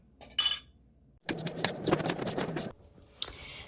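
Pink colouring being mixed into coconut roll dough in a bowl: a short clink, then a stretch of scraping and patting with light knocks, then a faint final scrape, close and without talk.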